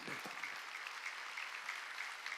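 A Korean church congregation at a Wednesday worship service breaks into soft, even applause, a faint dense patter heard from a distance without voices.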